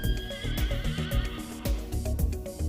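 A horse gives a loud, drawn-out whinny over a bed of music, with a few faint hoof-like clops underneath.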